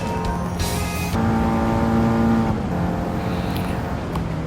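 A race car engine in the Gran Turismo video game drones loudly and continuously, revving up and shifting once as it accelerates, with no talk.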